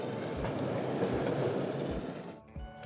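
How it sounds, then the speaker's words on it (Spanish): A track-cleaning tram running on the tram rails in Helsinki in winter, with close, continuous wheel rumble and clatter that thins out near the end as the tram passes. "Es un tranvía para limpiar las vías del tranvía."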